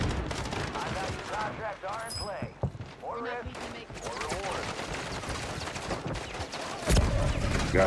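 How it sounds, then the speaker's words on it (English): Call of Duty Warzone 3 gunfire in a rooftop firefight near a prison, sharp shots and short bursts popping at mid distance amid player chatter and game effects. "Who the hell is shooting?"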